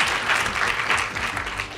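Sustained applause from a live audience at a medical podcast recording, dense and steady throughout with no voices rising above the clapping.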